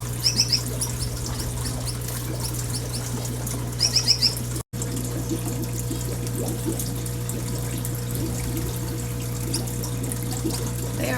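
Gouldian finches and zebra finches in an indoor aviary, giving short bursts of high chirps over a steady mechanical hum with faint fluttering.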